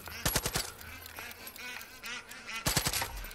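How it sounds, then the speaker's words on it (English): Honking bird calls in Far Cry 5 between short bursts of rapid gunfire at the start and end, the calls moderately loud and repeated over a low game background. "There's a bird there."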